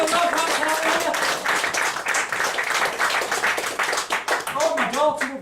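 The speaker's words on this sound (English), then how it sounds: "Give me a round of applause." Audience clapping breaks out at a live mentalism magic show, a lively round of applause with dense, uneven hand claps that swell and dip over several seconds, with some voices mixed in.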